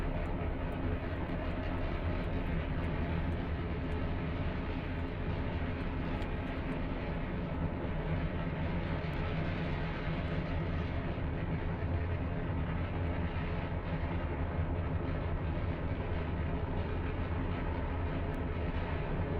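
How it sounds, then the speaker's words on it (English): A multi-engine rocket lifts off the pad in Kerbal Space Program, a dense, continuous roar that holds steady and loud throughout with no talk over it. "This thing really picks up off the pad with all those extra engines."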